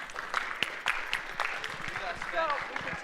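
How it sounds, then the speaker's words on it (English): A crowd at a high school event applauds panelists with a fairly soft, steady patter of claps, while voices talk and cheer faintly over it. "give them another big round of applause,"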